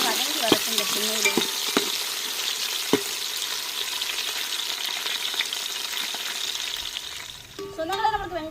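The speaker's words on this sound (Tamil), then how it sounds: "வெங்காயம் பச்சை மிளகாலாம் நல்லா வதங்கி வரட்டுங்க." Onions and green chillies sauté in a pan for chickpea biryani, a steady frying sizzle with sharp spoon clicks and scrapes against the pan, and a voice briefly speaking near the end.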